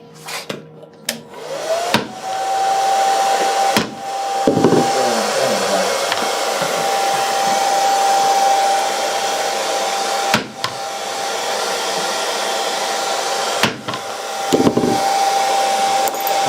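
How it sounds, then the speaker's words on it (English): A hair dryer runs steadily at close range with a constant whine for most of the stretch, broken by a few brief knocks and pauses, with no talk over it. "We have to wait till the hair dryer goes off."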